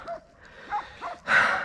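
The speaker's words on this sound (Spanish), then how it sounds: "se lo dedico a mi perra, que la tengo en el coche, que está ladrando" A few short, muffled barks and yips from a dog inside a car, moderately close, ending in a louder, brighter bark burst.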